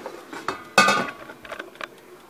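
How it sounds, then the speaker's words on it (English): Opening a heated air fryer in a home kitchen: a few light metallic clicks and rattles, then a louder clattering scrape as the basket slides out, followed by softer knocks, close and without talk. "So now I want to open up my air fryer."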